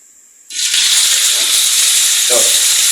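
Potato pieces dropped into hot oil in a wok erupt into a loud, continuous hiss and sizzle of foaming oil that starts abruptly and holds steady, with a brief clatter partway through.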